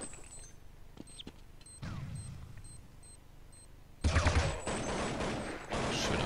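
Gunfire in Counter-Strike on de_inferno during a competitive match: sparse isolated shots with beeping tones, then dense loud bursts of automatic fire, with a commentator's voice faintly underneath.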